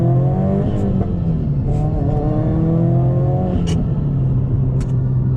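A Subaru STI revs up through the gears from the driver's seat, its engine note climbing, dropping briefly at each shift and climbing again, loud and close, with occasional sharp clunks and no voices.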